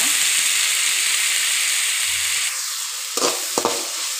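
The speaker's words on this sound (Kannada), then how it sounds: "ಟೊಮೊಟೊ ಫ್ರೈ ಆಯಿತು" Tomatoes frying with onions in a pan for a lady's finger stir-fry, a loud continuous hiss of sizzling oil with a couple of brief stirring knocks near the end.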